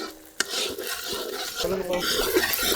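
Shallots, tomato, green chilli, ginger and garlic stirred in a pan, soft scraping and shuffling with one sharp utensil knock at the start, close and moderately quiet, with faint background voices.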